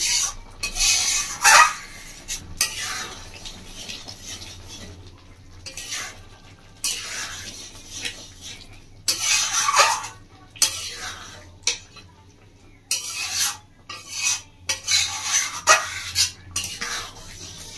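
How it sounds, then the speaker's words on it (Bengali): Utensil stirring urad dal with coriander leaves in a pot, a series of scraping, rasping strokes in bursts with short pauses between, close and fairly loud, with no voices. "ধনেপাতা দিয়ে ডালটাকে ভালো করে নাড়িয়ে দেবো।"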